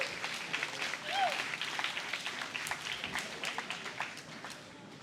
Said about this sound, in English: Round of applause for our new Zero Time to Airline students